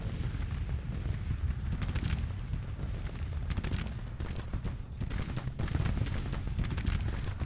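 Artillery guns firing in a Civil War strategy game set in 1861-1865, a dense, continuous rumble of booms and cracking shots that rolls steadily throughout, loud and sustained without pause.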